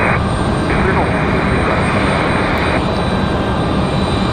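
Delta Airbus A320-200 jet at Raleigh Durham airport, a loud, steady, close engine roar filling the whole stretch with constant broadband rumble.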